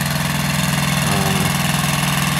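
An 18-horsepower Kubota two-wheel-drive diesel tractor idles close by in a steady, loud, unbroken low rumble with an even throb, and no voices are heard over it.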